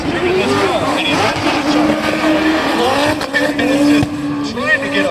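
Drift cars run together on a race track, roaring engines and long squealing tires rising and falling close by, with a person speaking over the noise.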